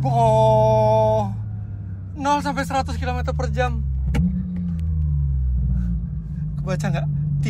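A Porsche 911 GT3 RS accelerates hard from 0 to 100 km/h, its engine screaming through rapid upshifts with brief gaps between gears before easing into a lower, steady drone. Voices are heard over it.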